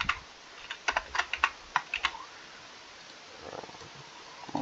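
Keys clatter on a computer keyboard in a quick burst of close, separate clicks, then fade to a quiet pause before a few soft taps return.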